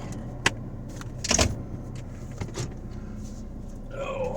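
Inside a Chevrolet Suburban as it is moved across a yard, a low steady engine hum runs throughout, with a few sharp clicks and thumps from the cabin and a brief whirring motor near the end.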